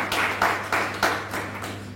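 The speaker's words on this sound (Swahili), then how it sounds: "Makofi mengine pia kwake." A crowd at a gathering speaking out against injustice toward Palestinians claps in applause, a steady patter of many hands with small rhythmic swells, fairly close and continuous throughout without talk.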